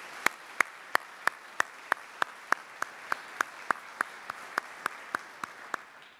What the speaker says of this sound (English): So please join me in a round of applause for everyone who made this possible.